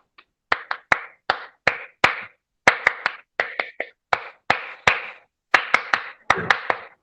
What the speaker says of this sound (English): School cheer clap, go!